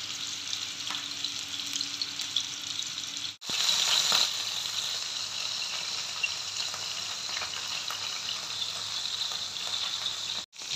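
Restaurant-style seekh kebabs on sticks sizzle steadily in hot oil, a dense, close frying hiss that runs throughout with a brief drop just past three seconds, then continues louder.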